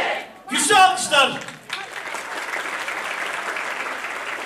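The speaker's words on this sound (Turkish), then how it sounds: "Güçlü alkışlar." An audience at a gathering with students who placed highly in the LGS exam breaks into loud, sustained applause that keeps going as steady clapping after a burst of voices at the start.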